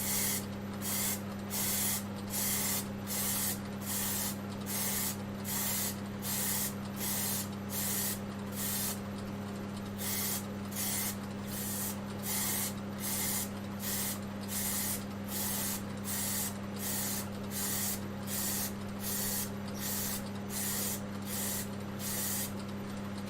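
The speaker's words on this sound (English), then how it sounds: "So we're just going to give this a light coat while it's turning slow." A light finish coat sprayed onto a big wood platter spinning slowly on a lathe: a long run of short, regular hissing bursts over a steady motor hum, close and even, with no talking.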